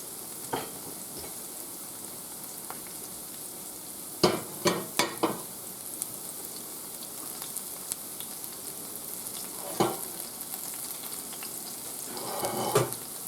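Pieces of General Tso's chicken frying in hot oil, a steady close sizzle with a few sharp scrapes and clacks as they are turned once; no talking.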